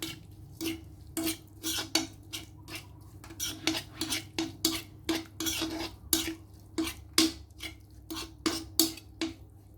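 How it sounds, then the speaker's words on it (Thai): Spoon repeatedly scraping and clinking against a bowl while minced pork larb is stirred, a steady run of close, sharp metallic taps with a low hum underneath. "คนค่ะ"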